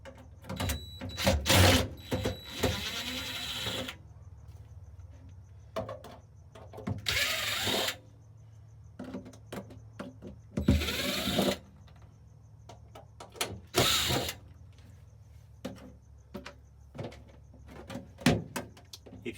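Screws being worked out of a panel inside a Frigidaire freezer that is not cooling, heard as intermittent close clicks, scrapes and rattling bursts of handling noise separated by quiet gaps, with no talking.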